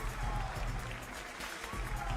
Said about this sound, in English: as he enjoys the plaudits of the crowd here in Milan